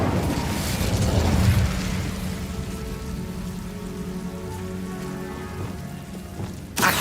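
An Incendio fire spell cast in Hogwarts Legacy gives a loud crackling, rushing burst at the start. It settles into a softer sizzling hiss and ends on a second sharp burst, with no voices.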